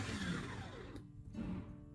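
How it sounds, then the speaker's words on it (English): A blender running on chili peppers, a steady, loud whirring that holds through the whole stretch with a brief dip in the middle, heard alone without any talk. "Then place them into a blender or food processor and blend until smooth."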